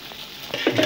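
Two spoons of oil poured into a pot of boiling water while making chicken fried rice, giving a soft bubbling, sizzling wash that grows louder in the second half, with no talking.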